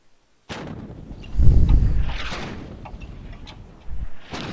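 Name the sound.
122mm howitzer 30-D firing, game engine asset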